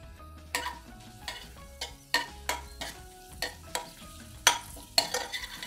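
Dried red chillies, cumin and mustard seeds fry in hot oil with a soft steady sizzle, broken by repeated sharp spoon scrapes and clinks against the pan in an uneven rhythm, close and fairly quiet.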